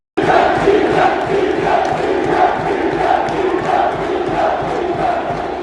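Huge PSG football crowd roaring in a packed stadium, a dense, sustained wall of chanting voices with rhythmic surges, loud and continuous throughout without any single speaker.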